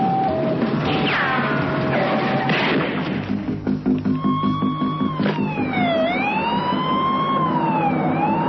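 Ambulance siren wailing during a car chase as the vehicle leaves a hospital, loud and close, with rising and falling tones over the roar of engines and traffic.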